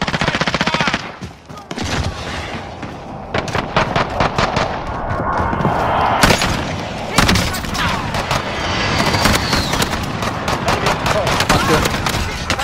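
Loud bursts of automatic and single gunfire in the Call of Duty Warzone video game rattle in rapid clusters with occasional heavier booms, continuing throughout while a voice talks intermittently over the shooting.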